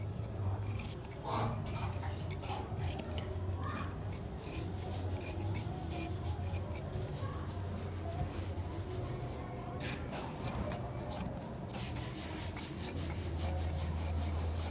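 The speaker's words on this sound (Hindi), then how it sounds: "तो बस अब हमें काट देना है इसको भी बैक को, तो यहाँ से हम इसको काटते हैं।" Scissors cutting through dress fabric for the back piece of a suit: a long run of repeated snipping and crisp rustling, close and steady, with someone talking throughout.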